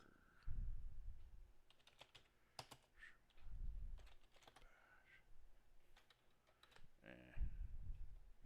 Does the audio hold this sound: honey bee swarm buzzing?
no